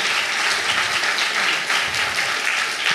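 Audience applause for the top bug closers at a GNOME Foundation annual general meeting, steady dense clapping from a crowd throughout, loud and sustained.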